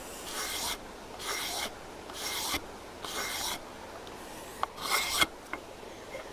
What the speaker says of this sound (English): Nice with the scraper, I can test the height over the wood.